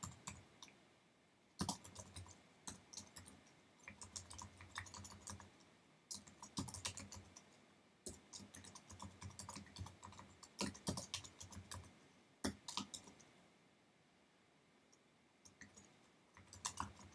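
Computer keyboard typing of HTML code, with bursts of quick key clicks separated by short pauses, close and fairly quiet, no talking.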